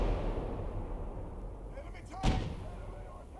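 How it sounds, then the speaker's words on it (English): A single cannon shot from artillery in the war game Gates of Hell, one sharp booming blast partway through, heard over a steady low rumble of battlefield noise. "Watch out for that cannon!"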